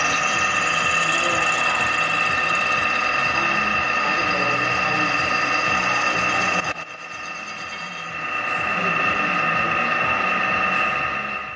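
A drill bores bolt holes with progressively larger bits in a shaft for a 4 1/2 inch Burrell engine build, giving a loud, continuous whine that briefly drops in level before picking back up.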